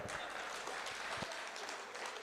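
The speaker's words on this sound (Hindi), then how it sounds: "एक बार जोरदार ताली बजा दो आप।" Audience applause at a live Hindi poetry recital, a dense, steady clatter of many hands clapping throughout, fairly faint and distant, with no talk over it.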